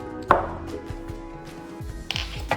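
A knife cuts thin avocado slices on a board, a few light, close, irregular taps and soft strokes in quiet surroundings.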